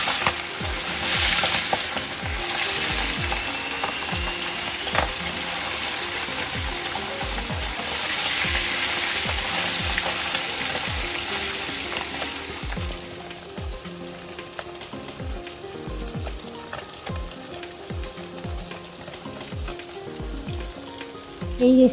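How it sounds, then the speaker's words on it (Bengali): Pabda fish frying in hot oil in a frying pan, a steady close sizzle that swells twice, with intermittent scraping and stirring knocks and no talking. "এবার তেলটা গরম হয়ে এলে মাছগুলোকে এপিট ওপিট করে ভালোভাবে ভেজে নিই।"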